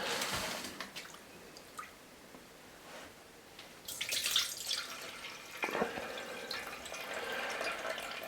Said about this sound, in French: dans un premier temps, on va déjà enlever cette eau